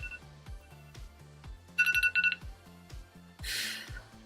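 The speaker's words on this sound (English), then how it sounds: "The timer just went off." Timer alarm going off with a loud, rhythmic pattern of repeating electronic beeps, including a quick burst of high chirps and a buzzy tone, close and alone.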